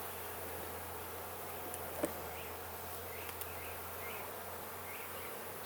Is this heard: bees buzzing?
yes